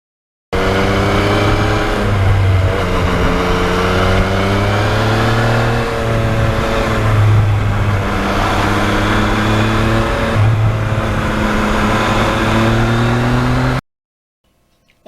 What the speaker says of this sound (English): This bike has a really nice quiet muffler in anything except full throttle, and then it really becomes a pleasant sound